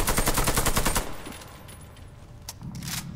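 AK-103 assault rifle firing full-auto in Warface, a dense, loud, rapid burst lasting about a second, then a quieter tail of echoes and scattered distant shots.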